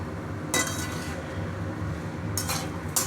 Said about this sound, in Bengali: এবার আমি নাড়াবো।